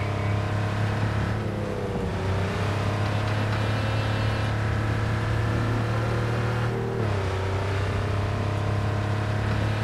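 A rear-engine Porsche in Cyberpunk 2077 drives with a steady, loud engine drone throughout, its pitch dipping briefly as it shifts gears. There is no talk.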